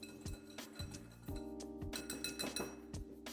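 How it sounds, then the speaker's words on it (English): A whisk mixes flour, baking soda and salt in a bowl, making quiet, rhythmic clinks as the wires strike the bowl's side every half second or so, close and soft. "Give that a good mix with a whisk until it's well combined"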